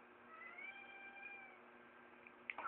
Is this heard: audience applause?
no